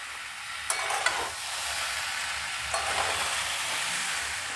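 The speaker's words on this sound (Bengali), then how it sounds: "আর সব মশলা দিয়ে চাল ডালটা সাঁতলানো হয়ে গেছে" Rice and lentils with fried spices and coffee being stirred in a pan for paneer khichdi, giving a steady soft sizzle with a few sharp scrapes of a spoon against the pan.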